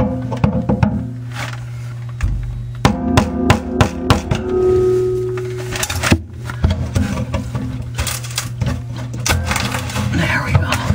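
Hammer strikes on a garbage disposer being turned into place during installation, a rapid run of sharp metallic knocks in clusters over a steady low hum, with a brief pause midway.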